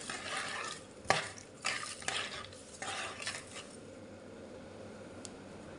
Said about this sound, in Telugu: ఇలా బాగా పులుసులో ముక్కలన్నీ ఉడకబెట్టుకోవాలి